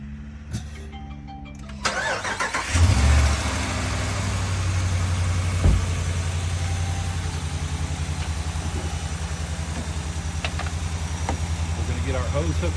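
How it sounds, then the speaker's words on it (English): A car engine cranks and catches, then settles into a steady low idle that rumbles on continuously, close by. "So the first thing you wanna do is start the vehicle."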